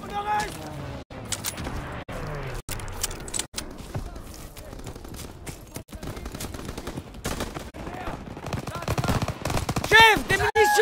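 Sustained Call of Duty WW2 machine-gun and rifle fire in a Normandy landing battle, dense bursts of rapid shots throughout with brief gaps, loud and close, with voices shouting over the fighting.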